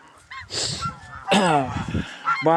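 A young gosling of about 5 kilos honks loudly in a few harsh, nasal calls on a sunny, frosty farm day in Russia, with a brief spoken word between the honks.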